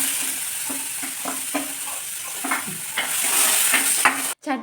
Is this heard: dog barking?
no